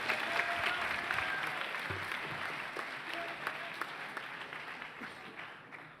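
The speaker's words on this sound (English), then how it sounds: "Let's give our insurance commissioner candidates a round of applause" A crowd at a youth civics convention gives a round of applause to insurance commissioner candidates, sustained dense clapping from a large room that gradually tapers off toward the end, with no voices on top.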